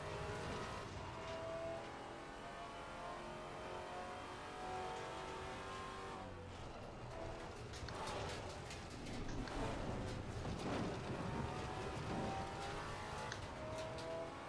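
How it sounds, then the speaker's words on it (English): A GT4 race car lapping Bathurst in Assetto Corsa Competizione drones with a continuous engine note, shifting pitch as it accelerates, with harsh crackling downshifts and rapid pops in the later half. "Downshift sounds proper harsh."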